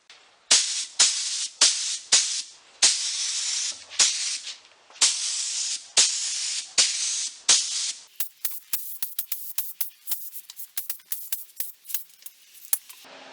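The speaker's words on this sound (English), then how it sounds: "I'll show you just a few second clip of me spraying" A spray gun applies a shellac seal coat to restored 1910 Singer sewing machine parts in loud, close hissing bursts of about a second each, then shifts to rapid short spurts.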